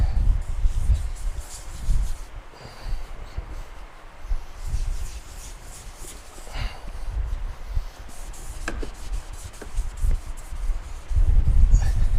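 Sandpaper dry-rubs across a car's sheet-metal quarter panel during repair, a continuous close scratchy rasp with rhythmic back-and-forth strokes and no speech.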